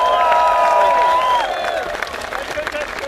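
Concert crowd applauding the sound and lighting crew at a show, a steady wash of clapping and cheers beneath a voice speaking over it.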